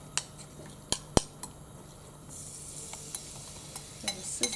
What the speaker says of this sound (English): There's sizzling going on.